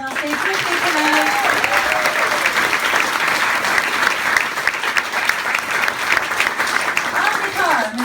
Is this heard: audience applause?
yes